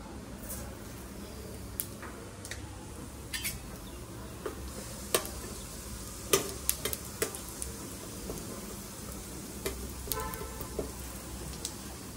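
Cumin seeds in ghee in a pan, a soft steady sizzle with faint scattered ticks and clinks of a spoon stirring against the pan, heard alone at low level.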